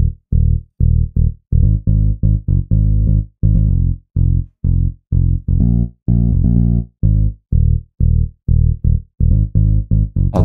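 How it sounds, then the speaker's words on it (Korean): A punchy synthesized bass line from a MIDI-produced K-pop dance track, plucked on a Sun Bass patch with short, choppy notes in a syncopated rhythm and brief gaps, loud and upfront and heard on its own. "베이스 같은 경우엔 이제 제가 자주 쓰는 베이스인 썬베이스 이용을 했고요."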